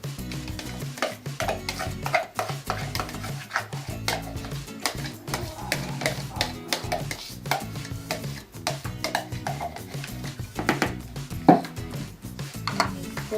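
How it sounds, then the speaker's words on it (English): Yogurt and liquid ingredients are mixed into chocolate cupcake batter, with soft, repeated stirring and light scraping against a bowl, fairly quiet and continuous with no talking. "Now we need to mix our wet ingredients in, our liquid ingredients."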